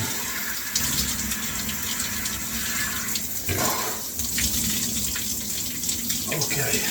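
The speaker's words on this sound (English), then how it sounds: "I'm gonna keep it on the coldest setting for the entire shower." Cold shower spray pouring steadily at close range, a dense continuous hiss with small shifts in the splashing as a body moves under the water.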